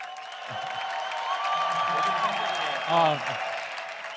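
Home crowd at an esports event, an LoL All-Stars match, applauding and cheering steadily at a moderate distance, with a voice speaking over the noise.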